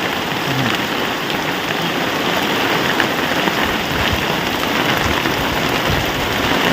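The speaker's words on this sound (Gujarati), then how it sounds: "જોરદાર વરસાદ જો ચાલુ થઈ ગયો છે" Heavy rain suddenly pours down in a village near Botad, Gujarat, a dense, steady roar of drops hitting surfaces close by, unbroken and loud throughout, with no voices.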